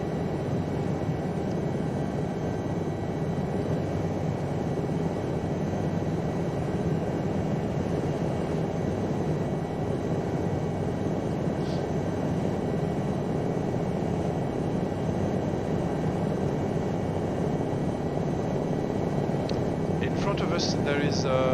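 An Aérospatiale SA315B Lama helicopter flies above the Chamonix valley near Argentière, its engine and rotor making a loud, steady roar that fills the whole stretch without a break, heard from inside the cabin.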